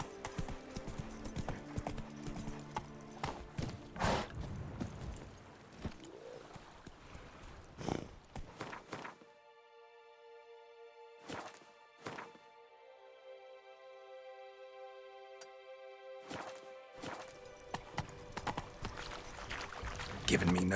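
Roach the horse gallops with rhythmic hoofbeats in The Witcher 3: Blood and Wine, loud at first, then breaking off into near silence with a few isolated thuds and tones, under occasional talk.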